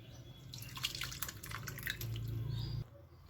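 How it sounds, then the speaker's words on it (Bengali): Water being poured into a bowl while preparing fuchka, a close trickling and splashing stream with dripping, lasting a few seconds before stopping abruptly. "পানিটাকে ঢেলে দিচ্ছি,"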